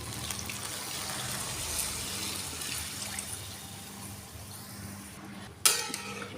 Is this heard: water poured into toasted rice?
yes